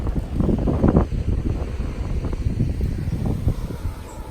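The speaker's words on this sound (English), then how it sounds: "It's a very windy day today" Steady gusting wind buffets the microphone on a vegetable plot, a continuous low roar and rumble with no voices.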